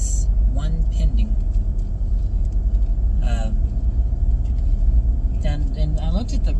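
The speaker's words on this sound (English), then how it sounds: "I'm going to start driving" A car drives steadily through the Lake Forest neighborhood in Owensboro, Kentucky, its low engine and road rumble continuous and close throughout, with a person talking over it at intervals.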